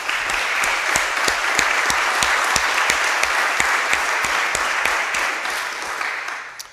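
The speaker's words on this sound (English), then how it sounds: "Would you give them a round of applause" An audience at an afternoon lecture series gives a round of applause for the series sponsors, steady dense clapping with a few sharp individual claps standing out, fading toward the end.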